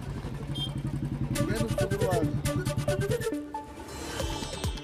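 A Royal Enfield Bullet motorcycle with a loud modified silencer thumps in rapid, even pulses, then revs higher and fades into nearby city traffic noise in Sangli.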